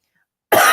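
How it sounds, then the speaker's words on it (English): A single sharp cough bursts out after half a second of silence, loud and close, with a rough, throaty tail. "I'm still coughing, so I'm really sorry."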